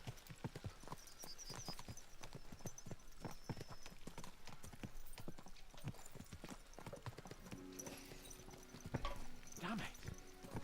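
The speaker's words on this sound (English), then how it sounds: "Let's really spur these horses on, eh?" Horses' hooves clip-clop in a medieval video game set around King Venceslas, a steady rapid gallop of many hoofbeats, close and continuous under faint game sounds.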